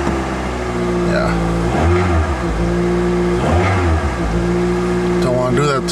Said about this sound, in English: engine accelerates really good